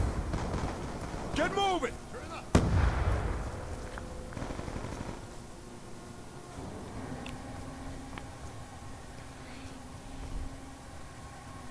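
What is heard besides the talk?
grenade explosion in the video game Black Ops 2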